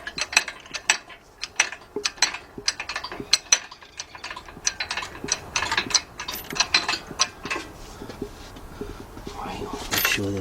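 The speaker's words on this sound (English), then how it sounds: "Let's get this jacked up." A jack ratchets to lift a 1999 Dodge Dakota Sport during an engine replacement, quick metallic clicks in uneven bursts, fairly close, with a few thuds and shuffling between strokes.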